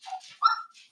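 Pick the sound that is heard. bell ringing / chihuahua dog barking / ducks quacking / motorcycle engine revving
chihuahua dog barking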